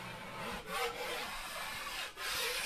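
A drywall knife scrapes dried joint compound ridges off a bed-coated butt joint, giving steady, close, rasping strokes with two brief pauses and no talking.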